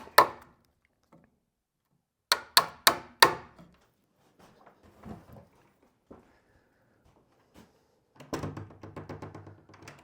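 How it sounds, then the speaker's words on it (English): A chisel is driven by sharp mallet blows into drilled holes in timber to cut out a lock recess, with a quick run of four loud strikes, then softer scraping and paring, and a final rapid burst of knocks. "I've just got to chisel them now."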